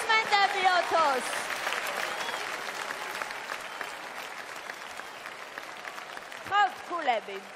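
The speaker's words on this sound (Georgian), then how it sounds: "აპლოდისმენტები" An audience at a Georgian TV song contest semifinal applauds steadily, with a sung note and a voice at the start and end over the clapping.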